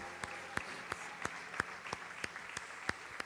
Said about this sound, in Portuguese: Aplauda o Senhor glorificando.